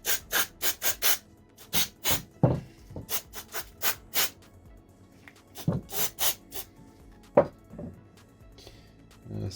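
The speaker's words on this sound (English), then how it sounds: "Let's get a bit of brake cleaner in there." Brake cleaner sprayed into the rear brake caliper of a Suzuki Hayabusa motorcycle, close and loud, in short hissing bursts in uneven groups with brief gaps between them.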